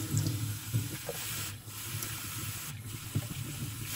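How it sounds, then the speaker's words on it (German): Cold water runs steadily from a tap over red lentils being rinsed in a small tea strainer, a soft continuous hiss with faint splashes close by in a home kitchen. "Im ersten Schritt müssen wir unsere roten Linsen mit kaltem Wasser durchwaschen."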